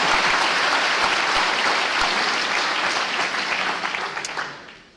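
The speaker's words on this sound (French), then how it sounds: "Merci d'applaudir chaleureusement Monsieur Thierry Magnin et Madame Françoise" An audience at a university campus inauguration applauds warmly. The clapping is loud and sustained, then tapers off over the final second.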